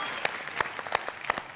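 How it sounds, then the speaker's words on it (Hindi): Audience at a Hindi poetry gathering clapping in appreciation, a brief burst of scattered, uneven claps from a small group, fairly close. "ताली बजा रहे हैं साहित्यकार वाहित्यकार कवि ववि शायर वायर सब"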